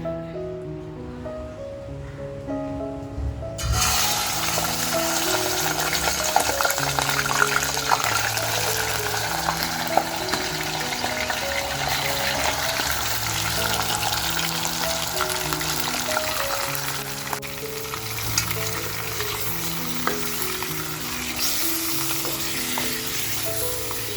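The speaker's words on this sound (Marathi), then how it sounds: "तेल बघा आपलं गरम आहे, म्हणून तेलात अगोदर मटण टाकून घेते।" Mutton dropped into hot oil in a pan over a gas flame bursts into a loud, steady sizzle that holds for the whole stretch, with a soft repeating musical backing underneath.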